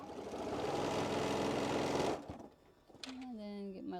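A sewing machine stitches a quilt block seam, a fast steady mechanical whir for about two seconds that stops abruptly, followed by someone speaking.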